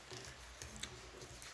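Scissors snip through a paper dart pattern in a few quick, faint cuts close up against a low background hum.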